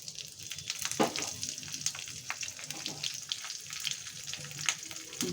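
Panch phoron spices and green chillies fry in oil in a wok, giving a steady close-up sizzle broken by frequent small crackles and spits.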